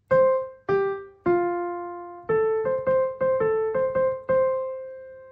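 A short keyboard melody plays the opening two bars of a song as single notes, first three slower tones and then a quicker run of repeated notes, clear and close with no talking.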